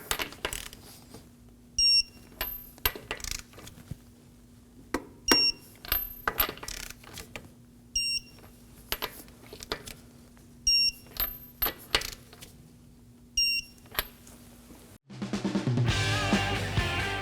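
Torque wrench tightening the front wheel lug nuts of a 2016-2020 Kia Sorento to 79.6 foot-pounds in a star pattern, giving bursts of sharp metallic clicks and ratchets, then a louder broadband rush at the end.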